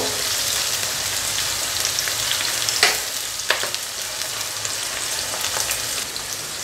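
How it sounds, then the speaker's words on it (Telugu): Green chillies and onion fry in oil for an Andhra fish curry, giving a loud, busy sizzle with a few sharper crackles and pops from close by, and no talking. "పచ్చిమిర్చి ఇవన్నీ వేసేసుకోవాలి. ఇవి మంచిగా వేగాలి."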